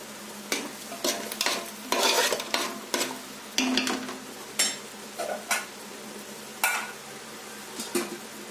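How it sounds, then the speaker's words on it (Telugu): A spoon stirs chicken biryani masala with chilli powder and salt in a pan, giving intermittent scraping strokes over a faint sizzle, close and moderately quiet, with no talking. "కారం సాల్ట్ ఒక హాఫ్ స్పూన్ సాల్ట్ వేసుకొని ఉడికించుకోవాలి"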